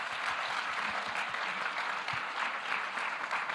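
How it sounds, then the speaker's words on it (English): A conference audience gives a steady, dense round of applause for the speakers, with continuous clapping and no talk. "Join me now in a round of applause to our speakers today."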